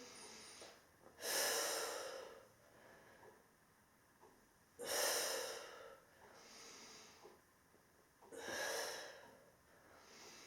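Three slow, deep breaths during a Pilates exercise class, each a soft breathy exhale rising and falling, evenly spaced and quiet, with no talking.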